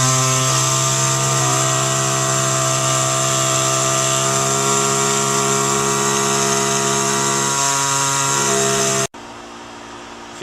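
Pneumatic oscillating air saw cutting into boat fiberglass to flush mount a chartplotter, a loud continuous buzzing whine that runs steadily for about nine seconds before stopping abruptly into quiet.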